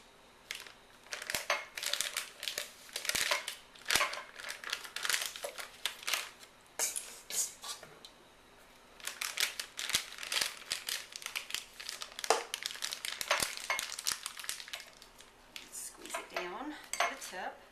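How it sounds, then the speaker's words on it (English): Plastic piping bag with a star tip being filled with Oreo buttercream, loud close crinkling and rustling of the plastic in irregular bursts with brief pauses, no talking. "so I'm going to put it in one of these little piping bags, and I have a little star tip on the end. So I'm just going to start filling it up"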